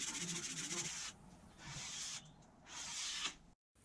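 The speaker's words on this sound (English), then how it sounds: "I applied the filler and sanded the edges around 3 times or so to get a reasonably good finish" Sanding the filled edges of a small wooden drawer model, a rough rubbing scrape that comes in three or four close strokes with brief pauses between them, then a short silence.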